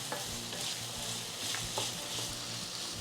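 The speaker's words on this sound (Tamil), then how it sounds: "இந்த தக்காளி சேர்த்துட்டு ஒரு 2 நிமிஷம் நீங்கள் வதக்கணும்." Tomatoes sauté in a hot pan for a chayote chutney, giving a steady, close sizzle with soft scraping stirs and light crackles throughout.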